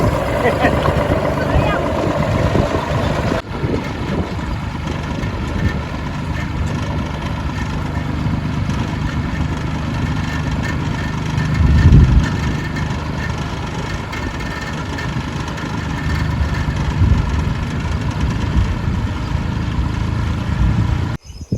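A tractor engine runs in a steady, loud low drone the whole time, with a faint voice underneath.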